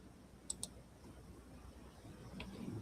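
Two quick, close mouse clicks near the start, then a fainter single click later, quiet and crisp against a low background hum with no talking.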